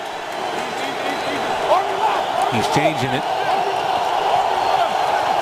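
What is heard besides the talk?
stadium crowd noise at NFL football game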